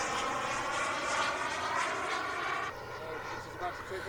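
A turbine-powered model airplane rolling overhead gives a faint, distant whine and rush that rises and falls, then softens partway through.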